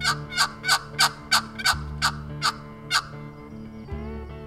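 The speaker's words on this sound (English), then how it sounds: "we heard some birds gobbling pretty strong further on down into the swamp" Wild turkeys gobbling in a swamp, a run of about nine rapid, evenly spaced gobbles that ring out clearly, each call sharp and loud above a steady low background hum.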